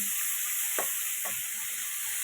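Fish coated in flour, gram flour and cornflour fries in hot oil with a steady, loud hiss and sizzle, broken by a couple of soft stirring or placing sounds.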